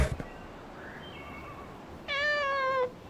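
A cat meows once in the horror farming game Dread Fields, a clear, drawn-out, fairly loud cry with a falling tone. It follows near silence and a faint ambient hum.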